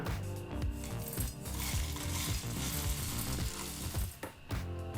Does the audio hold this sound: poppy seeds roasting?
yes